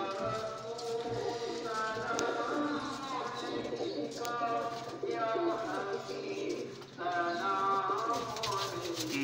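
Several colourful high-flying pigeons in a loft coo continuously in overlapping, throaty warbles, close and loud, with a steady low hum underneath.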